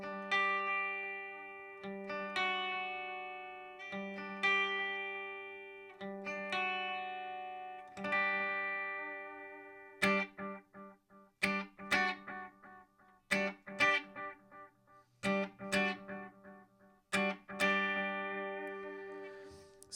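Electric guitar notes and chords pass through an MXR Carbon Copy analog delay pedal, each attack trailed by repeating echoes. Playing turns choppier and more staccato in the second half, with no talking.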